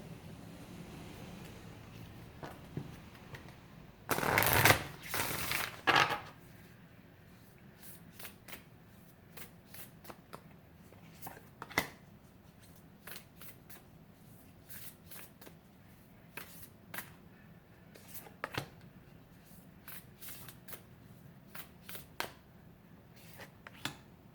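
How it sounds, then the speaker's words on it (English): Tarot cards are shuffled in a brisk riffle, then scattered soft taps and card handling sounds follow in a quiet room. "as I'm shuffling"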